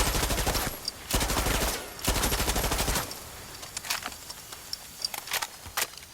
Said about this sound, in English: I'm just walking around shooting stuff.